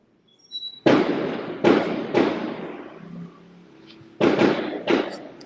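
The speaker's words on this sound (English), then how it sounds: "there is some fireworks going on" Fireworks burst in a series of loud, sharp booms with decaying rumbles, a few in quick succession, then a pause and another cluster.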